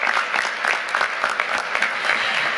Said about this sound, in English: So we want to applaud our scholars.